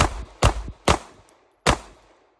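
Four sharp pistol shots fired fast during a timed five-round drill at five yards, each a loud, close crack with a brief decaying tail, the last after a slightly longer gap.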